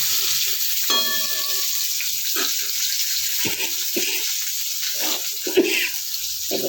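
Drumsticks (sajna) fry in a pan for a bitter gourd curry, a steady close sizzle broken by scraping stirs and soft clinks, with no talk.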